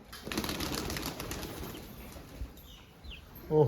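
A burst of wing flaps as a pigeon takes off, close at first then fading, with a few faint distant coos and chirps; no talking.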